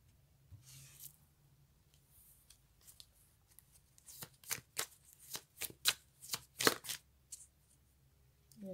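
Playing cards shuffled alone at close range, a few soft riffles at first, then a quick run of crisp, loud riffling bursts in steady rhythm, with no talk.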